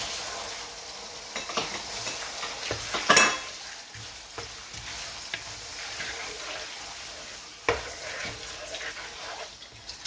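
Chicken fries in a karahi pan, a low sizzle broken by intermittent scraping and clinking as it is stirred, with no voices.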